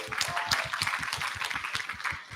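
A small audience at a university research and innovation conference claps for presenters, close, fairly rhythmic hand claps in a short, brisk burst.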